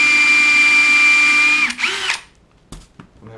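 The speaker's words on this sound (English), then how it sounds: "I'm just countersinking two holes" A power drill countersinks screw holes in the bottom shelf of a shop vac cart, a steady high whine running about a second and a half before winding down, then a few short clicks and knocks.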